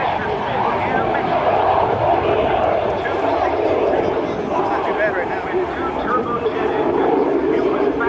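An F-86 Sabre jet fighter flies a demonstration at the 2013 Vectren Dayton Airshow, a steady loud roaring engine rumble throughout, with an announcer talking over it.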